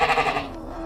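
A goat gives a single short, loud bleat, close by, with a wavering nasal tone that fades out within a second.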